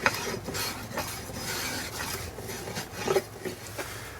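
One-handed planing on a wooden axe haft, soft repeated scraping and rasping strokes at a steady rhythm, close and fairly quiet.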